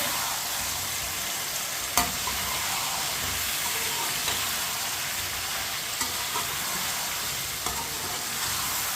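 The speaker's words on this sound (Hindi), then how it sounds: "मिक्स करके आलूओं को 4-5 मिनट के लिए चम्मच चलाते हुए भून लेंगे" Potatoes frying in a pan with whole dried red chillies and whole garam masala, a steady broadband sizzle throughout with occasional light spoon scrapes and clinks as they are stirred.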